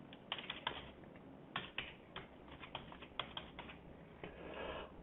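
A name is typed on a computer keyboard while setting up a card holder in access control software, giving quick irregular key clicks close by, with a few louder taps.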